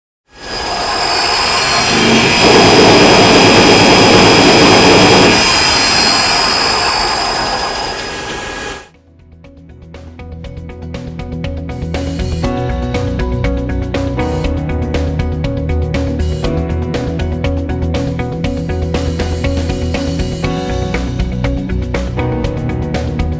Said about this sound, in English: If only the P gain value is set large, it can be seen that hunting occurs during high-speed operation